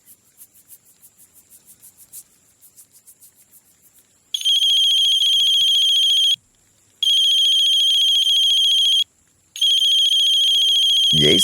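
A phone ringtone sounds loud and close: first a rapid chirping trill, then a sustained electronic ringing tone in long bursts separated by short gaps.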